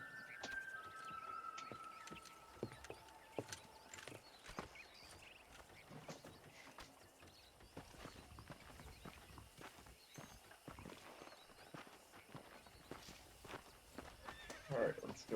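Horse hooves clip-clopping in Red Dead Redemption, with an occasional whinny, steady and moderately close among game ambience and background chatter.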